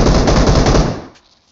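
Loud, close burst of rapid automatic gunfire in the battle royale game PUBG/BGMI, a dense rattle lasting under a second before cutting off into a brief fading echo.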